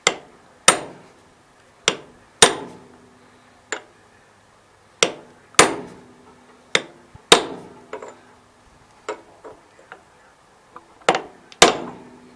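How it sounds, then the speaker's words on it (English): A hammer drives a bearing onto the front axle of a 1988 Gravely 16G, giving sharp metallic strikes at an irregular pace, about a dozen loud close blows with quiet ringing gaps between them. "hammer that back until it stops"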